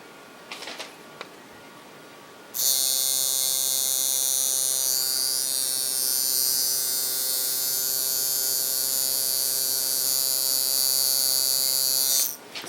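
A tattoo machine buzzes loudly and steadily for about ten seconds at high voltage and speed, a continuous close electric hum that starts and stops abruptly.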